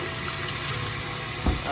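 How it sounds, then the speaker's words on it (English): Warm tap water runs steadily into a kitchen sink while potatoes are rinsed of dirt, a close, even rush of flowing water with a brief thump near the end. "Just rinse them under some warm water."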